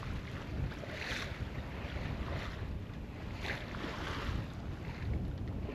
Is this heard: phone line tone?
no